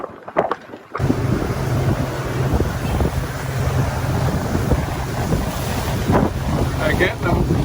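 A boat roars across open water in the Gulf with heavy wind buffeting the microphone and a constant rush of spray and engine noise throughout.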